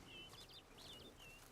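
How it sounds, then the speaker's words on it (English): A bird chirps in The Witcher 3, high thin calls repeating in short bursts, faint and distant over a quiet ambient bed. "We're not far off where this bird"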